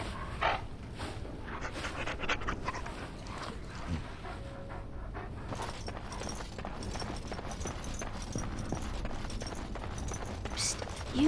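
A hound in Dragon Age: Origins pants rapidly and rhythmically, close and steady through the whole stretch amid faint game ambience and occasional clatter.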